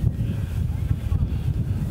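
Steady low wind buffets a microphone at a boys' high school baseball field in Salem, making a continuous rumbling roar with no break.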